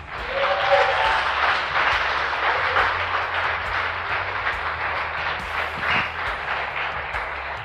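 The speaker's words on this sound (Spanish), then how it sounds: "Démosle un fuerte aplauso al Señor" A church congregation claps loudly and steadily during a worship service, a dense continuous roar of applause with no clear speech over it.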